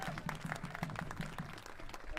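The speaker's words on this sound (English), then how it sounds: "Let's give Chantel another round of applause." Scattered hand clapping from a crowd at a Black Lives Matter protest rally in Washington, a steady patter of applause with a voice speaking over it.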